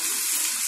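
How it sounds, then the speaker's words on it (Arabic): Water gushing steadily from a tap or pitcher onto uncooked rice in a cooking pot, a continuous close, loud splashing rush with no talking. "بعد كده احط عليه الميه."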